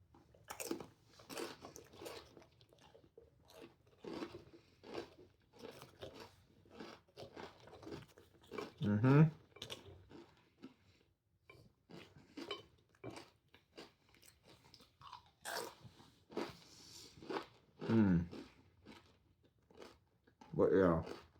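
Crunchmasters crackers are bitten and chewed close to the microphone, a series of loud dry crunches at irregular intervals with quieter mouth sounds and breathing between them.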